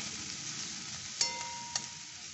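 Cashews and raisins fry in oil with flattened rice for chire polao, a soft, steady sizzle with two light clicks of a spoon against the pan.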